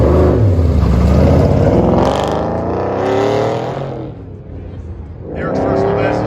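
A 1970 Chevrolet C10 pickup, a little black truck, runs an autocross course with its engine revving and accelerating loudly and steadily, while an announcer talks over it throughout.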